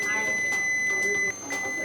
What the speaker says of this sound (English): So you hear all that beeping?